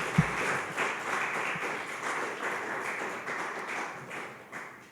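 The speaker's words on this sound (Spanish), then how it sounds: "Dale un aplauso al Señor, hermano." A church congregation claps during worship, a fairly faint, steady patter of many hands with a rough rhythmic pulse, heard from a distance and continuing for several seconds.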